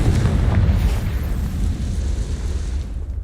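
The Confringo fire spell in the Hogwarts Legacy video game bursts in a loud, deep explosive boom with a rumbling tail that fades over a few seconds.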